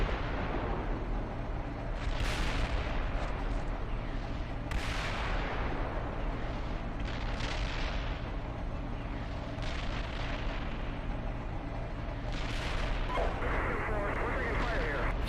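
Indirect artillery fire lands in the tank simulator Steel Beasts Pro, with dull distant booms and rumbles repeating over a constant engine-like drone. Voices talk over radio throughout.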